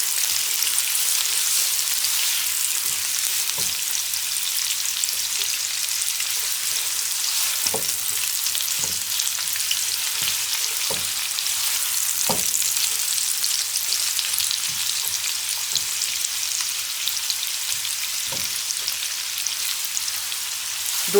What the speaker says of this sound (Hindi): ऑयल गर्म हो गया है, ओनियन डाल देते हैं।